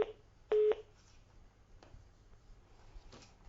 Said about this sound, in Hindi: चलिए दोबारा से कॉल करिए राम जी आप।